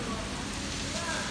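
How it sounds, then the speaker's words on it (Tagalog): Steady rain in Dubai hissing on a surface, a dense wash of drops with no breaks throughout. "Ganyan lang po ang ulan."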